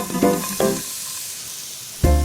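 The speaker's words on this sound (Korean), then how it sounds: "다 같이 넣고 볶읍시다" Onion, celery and green onion are stir-fried in a hot pan, giving a sizzle that comes in short bursts as the vegetables are tossed, with a louder burst at the end.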